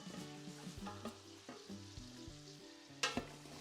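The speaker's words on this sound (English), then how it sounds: "And we're just gonna saute this." Chopped carrots and onions sauté in butter in a pan, giving a steady soft sizzle broken by clinks and scrapes of stirring and a sharper knock near the end, with music playing along.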